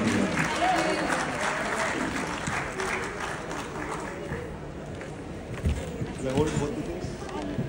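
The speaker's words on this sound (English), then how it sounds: "Can you please have a big round of applause for Pashmina Roshan" A crowd at the Radio City Mumbai Icon Awards 2025 gives loud, dense applause for several seconds, with a few cheers mixed in.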